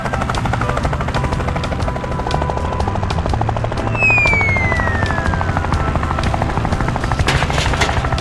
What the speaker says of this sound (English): The helicopter quickly delivered the fully assembled greenhouse to the monkey